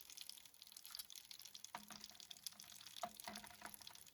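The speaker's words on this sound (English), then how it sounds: "we're using water from the sink" Water from a sink runs and splashes faintly over pigment rocks, a quiet steady trickle with small drips and wet knocks, no voices.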